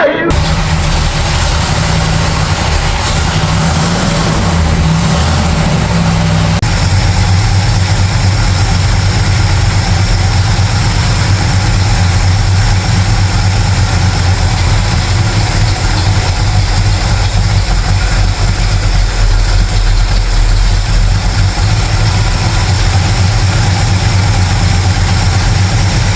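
A 1966 Ford Galaxie with a 427 V8, started after sitting five years, idles loudly and steadily up close with a continuous deep rumble and slight unevenness early on; a voice may be faintly present.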